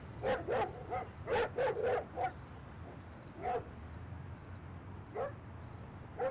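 A dog barks in quick clustered bursts, several sharp barks close together, then pauses before single barks, while faint rhythmic insect chirps pulse steadily in the background.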